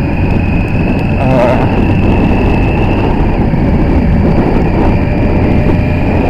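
Kawasaki GPZ900 motorcycle engine warming up at a steady pace, a loud continuous broadband drone with a low rumble throughout; a high whine briefly rises and fades early on.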